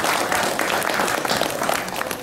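Applause at a seniors' Christmas tea in Yellowknife, a dense, even patter of many hands clapping at moderate loudness, continuous and unbroken without speech.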